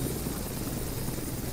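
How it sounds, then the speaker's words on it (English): A helicopter in the FSX flight simulator game gives a steady, faint rotor thrum with broadband whine, continuous and alone without talk. "There's a helicopter."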